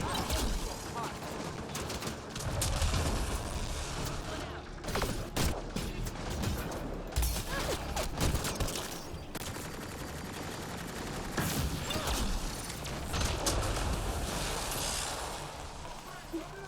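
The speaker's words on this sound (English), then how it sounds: "It's pistol." Pistol fire in Mass Effect Andromeda crackles through a busy combat mix, with repeated sharp shots scattered over a steady background of battle noise and effects.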